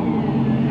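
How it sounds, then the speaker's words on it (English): A car engine gives a short, steady rev, loud and close, with no voices. "just a little baby rev."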